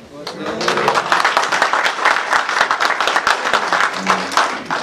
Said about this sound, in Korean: 이렇게 수많은 남성들에게서 열화와 같은 박수를 받을 줄 몰랐는데요